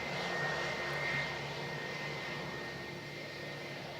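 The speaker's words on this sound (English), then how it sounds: "Here he comes. And you'll see just how much of this taxiway an A320 uses up." An Airbus A320 jet taxies along a narrow airport taxiway at Canterbury, giving a steady, continuous engine roar and whine that holds at an even level throughout, with no voices.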